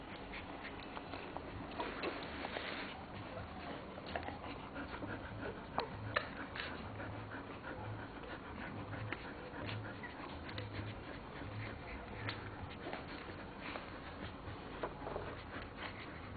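Faint, soft whimpers and small squeaks from three-day-old newborn puppies come and go over a steady low hiss, with no talking.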